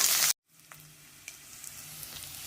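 Cumin, mustard seeds, curry leaves and onion hit hot oil with a loud burst of sizzling, then after a brief break settle into a steady, quieter crackle that builds slightly.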